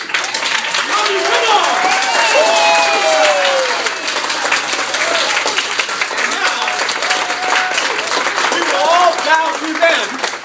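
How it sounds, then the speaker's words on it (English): A standing audience applauds and cheers at a martial arts school gathering, with loud, sustained clapping and raised voices and shouts mixed through the crowd noise. "let's give Vinjo a round of applause"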